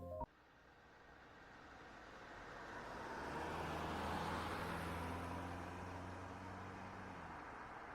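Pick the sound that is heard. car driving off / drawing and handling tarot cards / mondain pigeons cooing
car driving off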